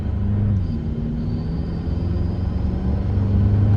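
Steady low truck engine rumble with a faint high whine of a turbo running underneath, continuous and fairly close.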